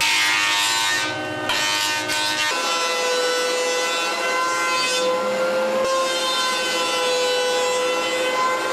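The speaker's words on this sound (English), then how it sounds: "I need to flatten each face of the joiner so I can get a nice glue joint." Jointer flattening the faces of cherry and walnut boards for a glue joint, a loud steady machine whine with a shifting tone as the cut changes, continuous and close with no talk.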